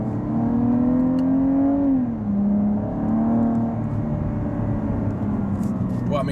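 A Cadillac ATS-V engine pulls at partial throttle in Dubai, a steady droning growl whose pitch rises, dips briefly as the gear changes, then climbs again, heard from inside the car with voices speaking over it.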